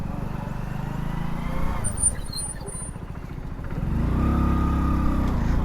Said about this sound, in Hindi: साइड साइड में निकालनी पड़ रही है बाइक